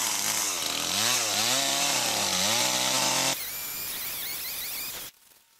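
A chainsaw bites into a tree trunk on a farm, its close, loud engine whining up and down as the cut deepens, then settling into a steadier roar before cutting out abruptly near the end, with no voices.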